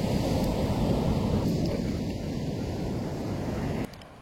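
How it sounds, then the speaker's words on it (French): Sea waves and wind on a beach, a loud continuous roar of surf with heavy wind buffeting the microphone, dropping slightly in level near the end. "y a des vagues hein"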